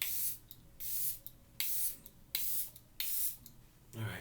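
A makeup setting spray pumped in six sharp bursts, each a short airy hiss with brief pauses between, close and clear with no talking.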